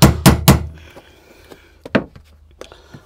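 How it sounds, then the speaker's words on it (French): A hammer taps to turn the fuel pump lock ring on a Dodge Charger, Challenger or 300C, three sharp heavy knocks up front followed by a few lighter, scattered taps. "il faut bien taper de part et d'autre"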